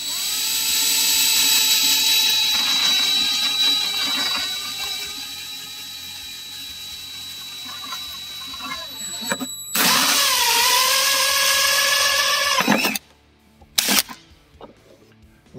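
A drill bores a hole through the plastic dash of a Kawasaki Mule FXR, its motor whining loud and close in long sustained runs with pitch shifts, followed by a couple of short bursts as the bit finishes.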